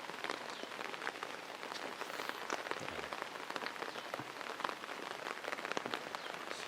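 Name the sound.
heavy rain falling on a village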